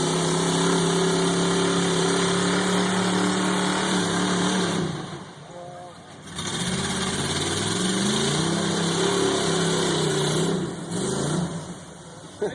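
A truck engine runs steadily nearby while the truck backs up, dropping briefly in level around the middle before rumbling on, with faint voices in the background.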